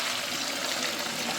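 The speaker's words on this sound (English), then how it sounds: "So we're gonna pour this water back in here" Water poured steadily back into a container, a continuous broadband splashing rush lasting the whole moment, fairly close and alone without talk.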